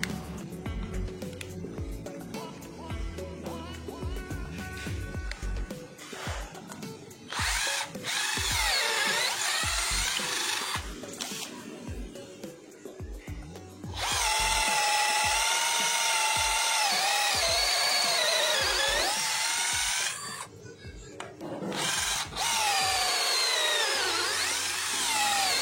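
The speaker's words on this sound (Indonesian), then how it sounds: "Uji coba berikutnya masih sama menggunakan percepatan nomor 2 mode drilling dan ini adalah mata bor kayu ukuran 10 mm." Nanwei 20V cordless drill in drilling mode at speed setting 2 bores into wood with a 10 mm wood bit, a loud close whining motor that rises and falls in long runs, with short pauses and grinding bite into the timber.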